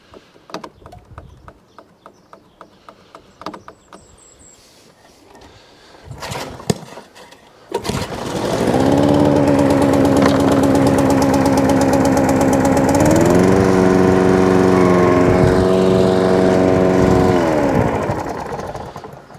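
A petrol lawnmower engine that had trouble starting on choke, first some clicks and handling noises, then it fires up and runs loudly and steadily close by, with a slight shift in pitch midway.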